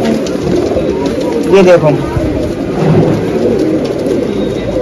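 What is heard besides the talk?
Deobandi pigeons cooing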